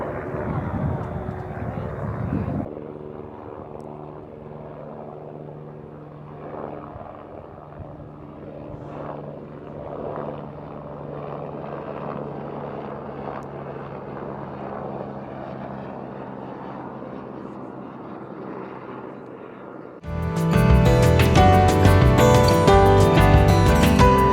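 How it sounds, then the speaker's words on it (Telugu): Helicopters fly around near the Matterhorn in Zermatt, Switzerland, giving a steady engine drone at moderate distance that holds for most of the stretch before a much louder, harsher surge near the end. "ఈ హెలికాప్టర్ ఏంటో బీభత్సంగా తిరుగుతున్నాయి"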